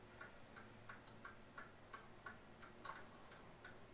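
A 1920s Seth Thomas clock ticks steadily and faintly, with about ten evenly spaced ticks in a quiet room and no voices.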